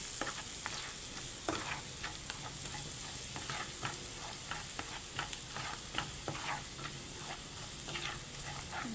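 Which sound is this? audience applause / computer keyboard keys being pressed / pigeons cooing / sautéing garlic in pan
sautéing garlic in pan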